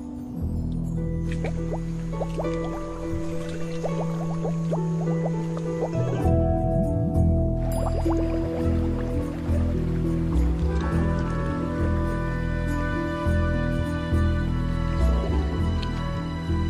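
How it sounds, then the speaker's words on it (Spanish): A crocodile blows bubbles underwater during mating, heard as a continuous gurgling, bubbling rumble with dripping liquid sounds, steady and fairly loud throughout under a layer of documentary music. "Soplar burbujas les predispone."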